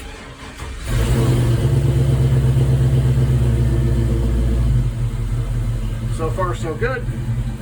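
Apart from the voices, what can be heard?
LS swap engine's first start and running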